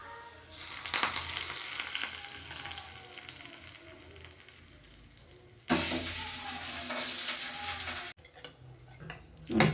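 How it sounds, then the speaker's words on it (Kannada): Spices for tempering crackle and sizzle in hot oil for a bean rice bath, a loud dense frying hiss that swells, cuts off abruptly, then resumes in short bursts. "ಇವಾಗ ಅದಕ್ಕೆ ಒಂದು ಒಗ್ಗರಣೆನ ಹಾಕ್ಕೊಳ್ಳೋಣ"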